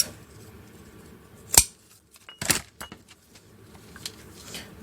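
Scissors snipping through ribbon while crafting a Christmas glass cloche: a crisp close cut, a second longer rasping snip, then a few faint small clicks in a quiet room.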